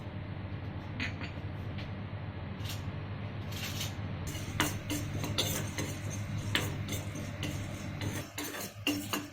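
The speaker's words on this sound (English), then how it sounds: "Keep the pan in flame, little oil, and we are going to fry the urad dal" Urad dal fries in a little coconut oil in a pan over the flame, giving a soft, steady sizzle and crackle with scattered light ticks and scrapes of stirring close by.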